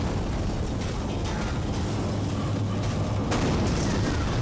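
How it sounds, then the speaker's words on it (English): Loud, rumbling booms and blasts roll on without pause in Dead Space, a dense wash of game explosions with no gaps between them. "All those explosions"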